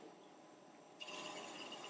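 A drill bit bores into a wooden bottle stopper blank on a lathe, producing a faint, steady rasping grind that grows louder and harsher partway through.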